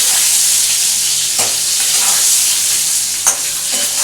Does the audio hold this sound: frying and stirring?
yes